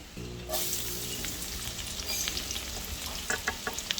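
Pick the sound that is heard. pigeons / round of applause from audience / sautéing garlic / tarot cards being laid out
sautéing garlic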